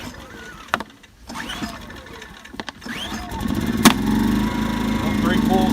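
A Pulsar 2000W inverter generator is pull-started with a few rasping cord pulls and clicks, then catches and settles into a steady, moderately loud engine drone close by.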